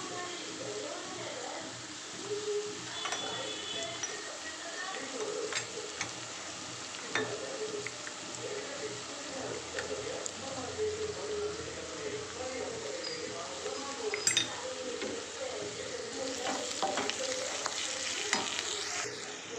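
Mushrooms frying with turmeric and ginger paste in a pan give a steady low sizzle for the whole stretch, with soft scraping stirs and an occasional clink of the spoon.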